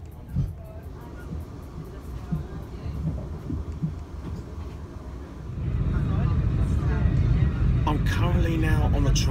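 Train interior on a ride toward Herne Bay via Stratford International: a low rumbling hum under someone talking, growing louder and heavier about halfway through as the train picks up speed.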